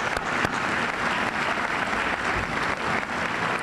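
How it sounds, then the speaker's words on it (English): Dense, steady applause from the crowd at a 1999 high school senior academic recognition ceremony, honoring the senior class, filling the whole stretch at an even, full level. "They deserve a round of applause."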